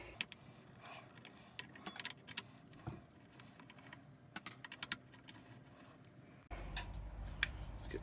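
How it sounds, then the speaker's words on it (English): Screws are being taken out of a router mounting plate and dropped into a magnetic screw tray; scattered small metallic ticks and clicks, close and fairly quiet, followed by a steady low rumble near the end. "let's get these screws out. Always get yourself something like this, which is a magnetic screw tray"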